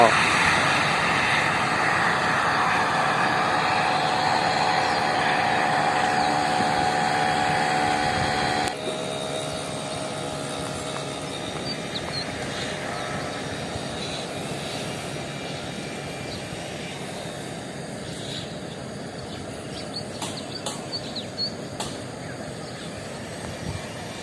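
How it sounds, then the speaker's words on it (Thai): Longtail boat engine carrying villagers out fishing in the morning on floodwater, a steady loud motor drone that drops in level partway through and continues farther off, with faint voices. "เรือหางยาวชาวบ้านออกหาปลาผู้ปลาตอนเช้า"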